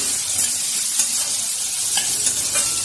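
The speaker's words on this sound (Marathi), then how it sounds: "कांदा छान परतून घेऊया." Onion sautés in a pan with a steady, close frying hiss and occasional light scrapes of a stirring spoon, continuous and even throughout.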